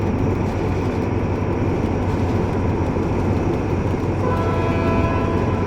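TCDD DE 24000 diesel locomotive in Train Simulator heard from the cab with the window open, a loud, constant engine drone and rolling rumble that holds steady throughout.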